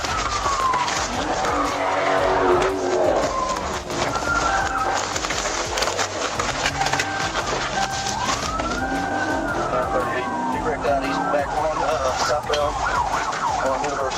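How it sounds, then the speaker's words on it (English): A black Dodge Charger speeds through city streets in a police pursuit and loses control in a sharp turn, with loud continuous engine roar, squealing tire skids and wailing sirens, and some indistinct voices. "The Charger sped recklessly through city streets, and at one intersection, the driver lost control while trying to make a sharp turn."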